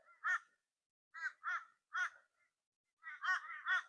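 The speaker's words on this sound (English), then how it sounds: "these crows are noisy. They're really noisy today." Crows caw repeatedly in short harsh calls, single caws then a rapid cluster of several, fairly close and clear against silence.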